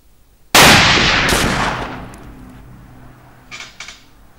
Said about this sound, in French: après ces tirs sur des bouteilles remplies d'eau